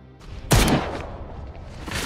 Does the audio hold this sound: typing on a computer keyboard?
no